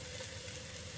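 Chopped boiled potato hits a pan of mint rice with onion and tomato and sizzles in a steady, even hiss, with nobody speaking.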